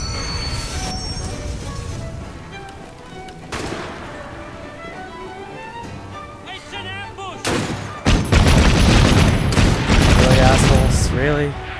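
Rapid sustained gunfire from a Gatling gun in the video game Assassin's Creed Syndicate, loud dense bursts that swell and build toward the end, with someone talking over parts of it.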